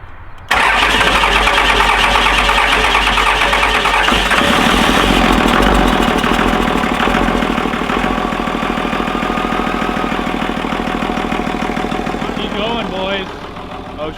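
A Cummins engine cranks and catches, then settles into a steady, loud idle around 750 rpm with a rough, even mechanical chatter close to the microphone.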